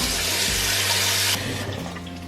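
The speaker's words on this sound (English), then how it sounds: "what we need to do is fill up this pan with water" A kitchen tap runs steadily into a pan, filling it with water in a loud, close rush that drops in pitch and eases after about a second and a half, no voices.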